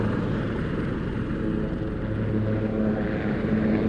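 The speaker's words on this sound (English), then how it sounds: "Aircraft transiting rearwards" A propeller-driven aircraft drones steadily overhead at an air show, its engine hum continuous and moderately loud with a faint rising harmonic toward the end.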